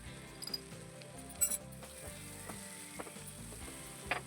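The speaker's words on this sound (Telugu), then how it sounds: "ఇప్పుడు ఈ ఉల్లికారాన్ని కూడా వేసి బాగా వేపుకోవాలి, కలుపుతూ వేపుకోవాలి." Onion chili paste with turmeric sizzles quietly in a pan and is stirred, with faint scraping and a few light clinks over a steady low fry, no voices.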